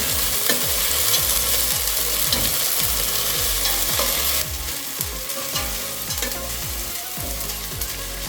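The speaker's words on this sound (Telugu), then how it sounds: "పోయేంత వరకు మనం వేయించుకోవాలి ఈ అల్లం వెల్లి పేస్ట్" Ginger garlic paste frying in a pan for a simple biryani, a continuous close sizzle with a run of rapid rhythmic stirring scrapes throughout and no talking.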